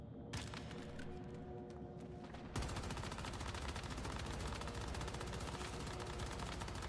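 Gunfire from a novelty meme cannon in the video game Once Human: a quieter stretch gives way to rapid, sustained bursts of shots that run nonstop at a louder level, without talk.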